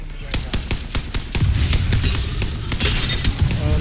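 Rapid bursts of automatic gunfire ring out in Apex Legends, a dense string of sharp, loud shots with clattering impacts. A player talks briefly.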